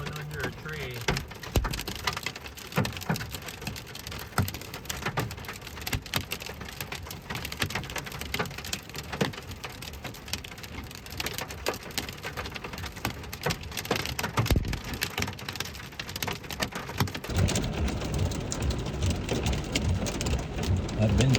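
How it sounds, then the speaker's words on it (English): Pea-sized and slightly larger hail mixed with heavy rain pelts steadily during a severe Texas storm, heard from shelter under a tree, a dense, continuous patter with sharper hits throughout. "I've been taking on hail for about 5 minutes. Most of it's pea-sized, but a little bit bigger."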